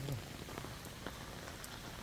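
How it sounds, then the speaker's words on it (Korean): Heavy rain falls steadily on surfaces outdoors by a pond walking trail, a constant close hiss with scattered drop patters and no one speaking. "비가 많이 옵니다."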